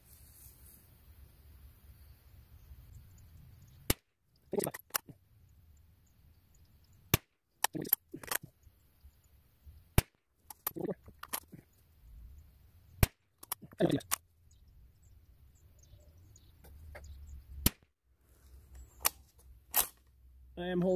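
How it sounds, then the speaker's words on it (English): Single rifle shots from a 6.5 Grendel Ruger American fired outdoors at a range, sharp loud cracks spaced several seconds apart with quiet gaps and brief talking between them. "I'm going to shoot at the bottom with a CFE and then the top with XBR powder"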